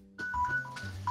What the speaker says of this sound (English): the phone's ringing again, too